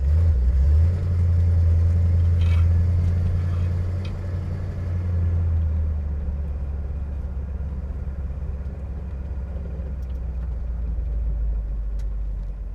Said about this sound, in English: Got a very good V8 rumble